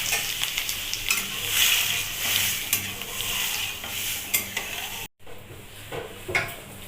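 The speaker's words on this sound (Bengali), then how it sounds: "নেড়ে নেব।" A spoon stirs taro leaf curry (kochur ghonto) in a pan over heat, with scraping strokes and soft sizzling in an irregular rhythm, close and moderately loud, briefly cut near the end, with no talk.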